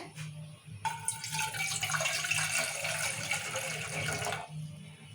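Water pours steadily into a dented pot for a few seconds, a rushing splash that starts abruptly and stops cleanly, with a low hum behind it.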